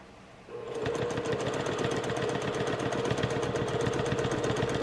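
A sewing machine runs steadily at an even speed during free motion quilting of a beginner sampler quilt, starting after a brief quiet moment and then whirring with a continuous rapid needle rhythm, close and fairly loud.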